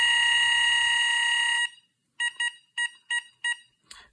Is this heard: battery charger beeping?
yes